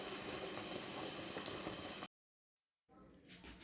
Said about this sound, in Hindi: देखिए ये कितना अच्छा फ्राई हो रहा है।